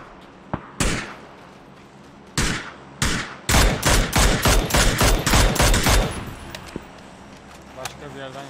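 Gunfire rings out in a PUBG match: a few isolated loud shots, then a rapid burst of evenly spaced shots, close and sharp, followed by quieter background sounds.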